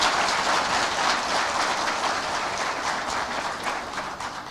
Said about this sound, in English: I think Balozi deserves a better and more hearty clap.